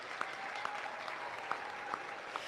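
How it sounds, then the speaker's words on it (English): Scattered applause from a livestock arena audience at a county fair for senior division showmanship finalists, a soft steady patter of clapping with a few sharper claps standing out, fairly distant and not very loud. "Please give these finalists a big round of applause."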